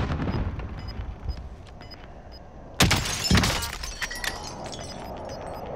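Sniper fire in a video game: a sharp, loud crack lands near the middle, followed by another report and scattered impacts over steady background game noise, with no talk.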